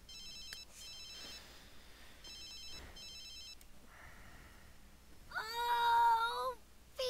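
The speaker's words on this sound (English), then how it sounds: "Again, while she's sleeping, somebody's calling." Telephone ringing at 4 a.m. in The Sims, several short electronic ring bursts repeating at a steady pace, followed by a louder wavering meow-like cry near the end.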